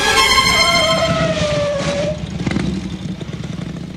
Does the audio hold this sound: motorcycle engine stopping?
yes